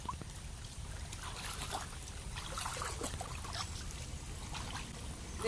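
Steady soft trickling and lapping of floodwater filling a house yard spreads through the clip, a continuous low wash of standing water with faint splashes, no voices.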